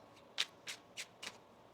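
Tarot cards shuffled by hand in four quick, crisp riffling bursts spaced about a third of a second apart, close and fairly soft, with no voices.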